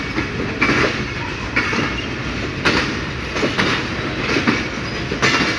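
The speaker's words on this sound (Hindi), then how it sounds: "अल्लामा इकबाल एक्सप्रेस लाहौर यार्ड से निकलते हुए" Allama Iqbal Express rolls out of Lahore yard, a loud, steady rumble of the train passing close by with rhythmic clickety-clack of wheels over rail joints throughout.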